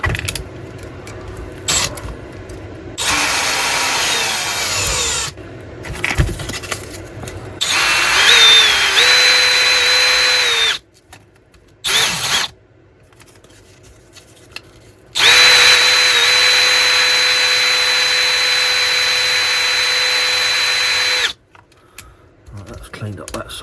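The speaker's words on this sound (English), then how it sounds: "Just drop this in the drill." An electric drill whirs in several bursts while cleaning holes on a Hornby Black 5 model locomotive, starting and stopping with a high whine, with the longest runs lasting several seconds, close and loud.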